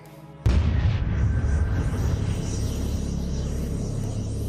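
A sudden deep explosion standing in for the Big Bang hits after a brief hum, then rolls into a loud, sustained low rumble that fills the rest of the stretch.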